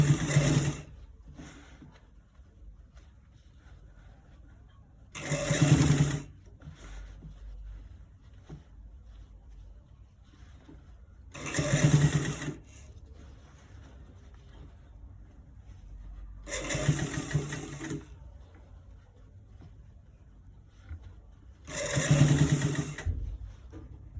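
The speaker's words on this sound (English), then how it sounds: "we are getting to the finish of the v-neck sewing" A sewing machine finishing the stitching on a V-neck runs in five short, separate bursts of whirring spaced several seconds apart, with quiet, faint background between them.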